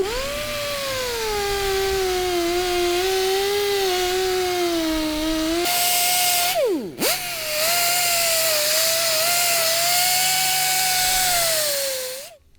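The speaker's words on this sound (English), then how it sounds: "Bo uses a wire wheel to clear away the rust for a better look" Powered wire wheel grinding rust off a tank suspension pin during a StuG III G restoration, a loud continuous whine that dips briefly as the tool slows and catches, then spins back up and runs steadily to a stop.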